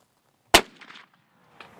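A single muzzleloader rifle shot fired outdoors on a Utah deer hunt in the Book Cliffs: one sharp, loud blast followed by a short rumbling echo, then a fainter report or thump about a second later.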